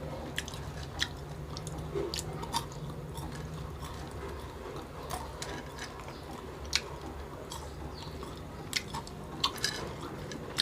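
Quiet, close chewing of crispy homemade French fries, crisp outside and soft inside, with soft wet mastication and scattered sharp crunches recurring over several seconds.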